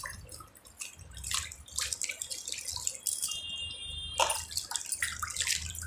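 Water splashes and trickles at a sink while charcoal soap lather is rinsed off by hand, soft irregular splashing and dripping, fairly quiet and close, with no talk.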